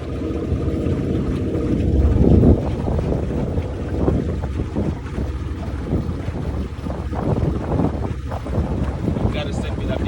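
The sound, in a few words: pirogue boat moving fast on water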